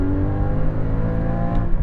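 A Porsche GT4, a mid-engine sports car, pulls hard under acceleration with a steady, loud engine drone and rising harmonic tones close by, holding continuous power throughout.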